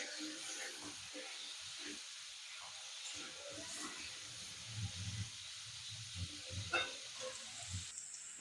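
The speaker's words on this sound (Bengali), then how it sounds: "এই তেলের মধ্যেই আমি তরমুজের খোসাগুলো একটুখানি ভেজে নেব" Watermelon rinds fry lightly in oil with a soft, uneven hiss and sizzle, punctuated by a few louder pops and low kitchen rumbles.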